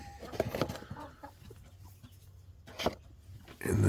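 Broody hen sitting on Brahma mixed eggs, giving low, close, agitated clucks and grumbling in short bursts, with a louder rustle of movement at the end.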